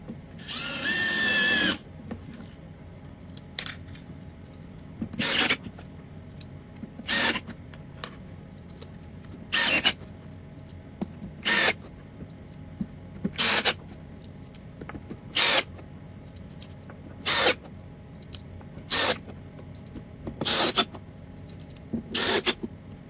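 A power drill whirs in short, loud bursts of about a second each, repeated roughly every two seconds as threaded inserts are driven into pocket holes in a woodworking shop, with quiet handling noise between.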